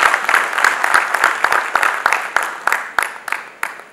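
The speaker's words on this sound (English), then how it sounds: "Let's give a round of applause." Audience members at a business conference session clap in a loose, thinning round. Individual sharp claps stand out more and more as the applause tapers off.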